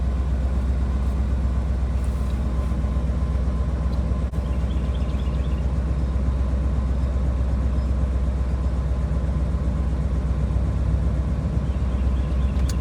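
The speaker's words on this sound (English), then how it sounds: "It sounds like the pumps are getting kind of somewhat loud." The fuel pumps in a supercharged Coyote-engine car run with a loud, steady drone and hum that holds unbroken for the whole stretch, heard from inside the car with no talking.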